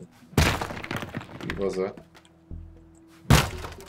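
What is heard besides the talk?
smashing an old house apart in video game Teardown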